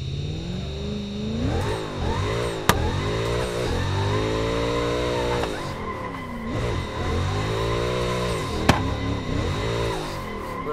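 A race car from a driving game screams through a run at Englishtown, its engine note climbing and dropping through repeated gear changes, loud and continuous with a couple of sharp clicks.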